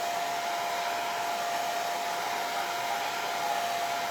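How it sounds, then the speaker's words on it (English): A steady, loud blow dryer runs without pause drying paint on a stencil, a constant airy whoosh with a faint high whine, no voices. "when I hit this with the blow dryer, just to dry that off a bit"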